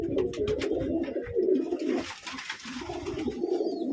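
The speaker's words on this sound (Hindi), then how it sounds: "ये कोई पुराना कबूतर भी लेके आना" Pigeons coo in a steady, close chorus of low rolling calls, with a few sharper chirps and rustles layered above during the handling of old pigeons.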